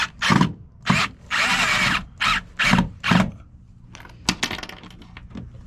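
A power drill runs in short bursts while mounting a custom headlight on a boat, roughly six separate whirring pulses of varying length, loud and close, followed by faint clinks and handling noises.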